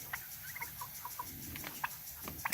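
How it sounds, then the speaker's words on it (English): Black Spanish turkeys, a smaller tom and a larger hen, make soft clucks and short calls scattered across a faint outdoor background. "These are black Spanish turkeys"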